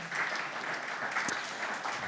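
A steady wash of audience applause at a community pub talk, many hands clapping evenly for about two seconds with no speech.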